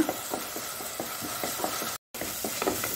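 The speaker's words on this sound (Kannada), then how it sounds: "ಈ ತುಪ್ಪ ಮತ್ತು ಎಣ್ಣೆಯಲ್ಲಿ ಅದು ಸ್ವಲ್ಪ ಗೋಲ್ಡನ್ ಬ್ರೌನ್ ಆಗೋ ತನಕ ಇದನ್ನು ನಾವು ಫ್ರೈ ಮಾಡ್ಕೊಳ್ಳೋಣ" Prawns frying in ghee and oil sizzle steadily at close range, with rhythmic stirring scrapes roughly every few tenths of a second and a brief cut to silence midway.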